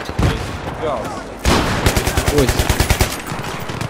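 Machine gun fire in the video game Battlefield 3, a loud close rattling burst of rapid shots, then a sharp bang and a longer steady volley, with a man briefly exclaiming over it.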